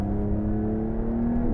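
A Porsche 911 Dakar's 3-litre twin-turbo flat-six revs loudly and close up, a steady sustained drone whose pitch holds and then dips slightly at the end, with no voices over it.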